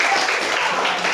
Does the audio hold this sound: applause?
yes